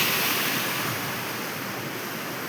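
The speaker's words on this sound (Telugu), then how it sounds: "hi Tamil Nadu Mahabalipuram beach" Ocean surf at Mahabalipuram beach, Tamil Nadu, as a continuous broad wash of breaking waves, loud and close, with some wind rumble and no voices.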